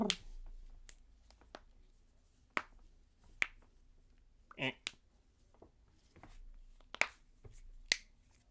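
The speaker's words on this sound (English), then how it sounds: "I know quite a lot of people do not enjoy the sound of cracking knuckles" A person cracking their knuckles, a series of about ten sharp dry pops spread irregularly over several seconds, close and fairly quiet in an otherwise still room.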